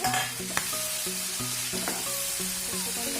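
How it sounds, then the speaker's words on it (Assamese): Chicken curry with taro and potatoes stirred in a pan, a steady sizzle under rhythmic scraping and clacking strokes of a spoon against the pan, near and with no talking. "এইখিনি ভালদৰে লৰাই ল'ম এবাৰ ভালদৰে আৰু লৰাই দিব লাগিব"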